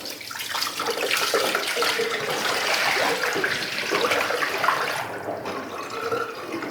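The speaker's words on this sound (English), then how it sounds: "now we get another bucket of water, pour it in there. Let's see how good it drains now." A bucket of water is poured into a freshly unclogged drain, a loud continuous rush and gurgle of water draining freely for several seconds, then tapering off.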